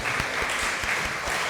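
A church congregation claps for a visitor, making a dense, even wash of applause at full volume that carries on without pause.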